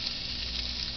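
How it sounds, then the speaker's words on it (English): Steady, dense sizzling of pork chops frying in a hot pan, continuous and close with no talking. "frying up some of these"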